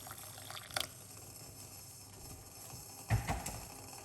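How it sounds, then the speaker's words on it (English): Hot water poured into a pot for okra tea, a soft steady liquid wash with a brief splash near the start and a louder burst of pouring toward the end, close by. "we're gonna put 1 cup of hot water in the pot"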